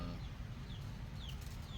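Chickens cluck faintly in a few brief calls beneath a loud, steady low rumble of a nearby van.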